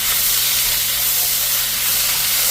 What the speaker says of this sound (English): We're going to get a nice saute, y'all.